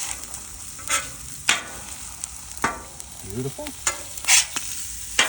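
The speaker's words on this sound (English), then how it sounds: "I'm gonna throw some eggs on this side of the Blackstone" Eggs frying on a Blackstone griddle beside potatoes and a toasting roll, with soft sizzle under scattered scraping and clattering spatula strokes and brief bursts, and a single short spoken word.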